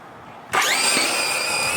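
A Traxxas Drag Slash RC car launches from silence at full throttle, its electric motor jumping to a sharp high whine that climbs in pitch and holds steady, close and loud.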